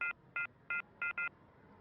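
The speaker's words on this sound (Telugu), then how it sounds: "ఇంకో నెంబర్ చేస్తానుండు" Five short touch-tone beeps of a telephone number being dialed, the fourth and fifth coming close together, clear and alone against a quiet background.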